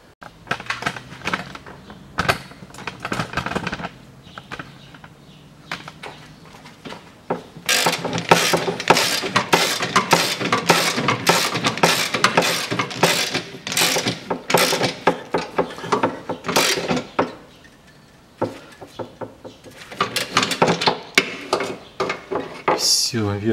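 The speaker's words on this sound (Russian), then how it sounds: "Все, верхнюю гайку затянул." A ratchet wrench tightens the nut on a rear stabilizer bushing of a 2011 Toyota RAV4 2.0, with bursts of fast, loud, close clicking separated by short quiet gaps.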